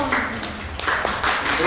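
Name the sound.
audience applause for the author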